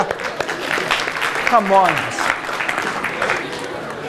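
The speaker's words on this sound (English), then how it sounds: "Give yourself a round of applause" Audience applause at a lecture, a steady broadband patter of clapping running under a voice speaking throughout.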